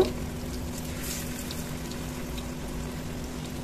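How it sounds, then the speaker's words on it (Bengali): Pieces of raw jackfruit dipped in batter fry in plenty of hot oil, giving a steady, close, rain-like sizzle and crackle that runs unbroken throughout over a low background hum. "তেলে এখন কাঁঠালগুলো ভেজে নিব"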